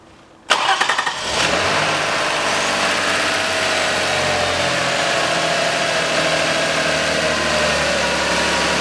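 A Toyota Harrier's 1MZ-FE engine cranks and catches after a quiet start, then settles into a steady, close, even idle that runs on alone.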